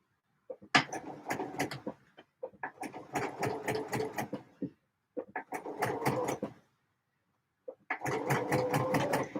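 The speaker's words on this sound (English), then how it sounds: "I'm sewing with the side of the garment up that's got the most fabric in it" A sewing machine stitches a shirt garment in rapid mechanical bursts, four runs of clattering needle strokes separated by short pauses, close and clear with no voices.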